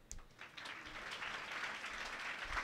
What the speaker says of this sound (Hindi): एकदम ताली बजाओ इनके लिए